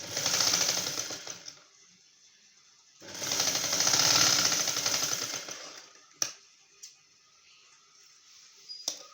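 A sewing machine stitches a prince-cut blouse in two long bursts of rapid, even needle chatter, with a pause between them, followed by a few sharp clicks and knocks from handling the fabric.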